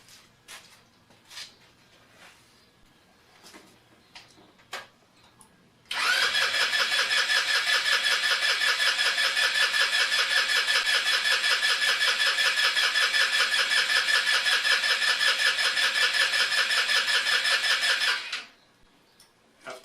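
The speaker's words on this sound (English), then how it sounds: "you have to turn over the engine quite a few times before the carburetor fills" A starter motor cranks a carbureted Leike Ruckus-clone scooter engine in one long, steady, unbroken whir lasting about twelve seconds without the engine catching, preceded by faint clicks and knocks.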